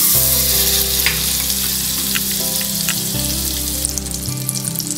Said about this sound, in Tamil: 50 கிராம்ல மிச்சம் இருக்க பட்டரை வந்து நம்ம தாளிக்கிறதுக்கு போட்டுடலாம்.